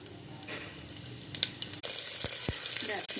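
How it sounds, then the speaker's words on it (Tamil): Whole spices of mustard, cumin, fennel, fenugreek and pepper drop into hot oil and ghee, setting off a sudden loud, steady sizzle after a few quiet clinks and pops. "இப்போ அது கூட கடுகு, சீரகம், சோம்பு, வெந்தயம், மிளகு எல்லாம் எடுத்து வச்சுருக்கிறதெல்லாம் அப்படியே போட்டுடணும்"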